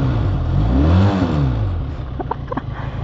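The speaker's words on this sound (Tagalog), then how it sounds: "soundcheck tayo ng Benelli 502C" A Benelli 502C two-cylinder motorcycle revving on a city street, the engine note rising and falling loudly in a quick rev up close, then settling to a rumbling idle.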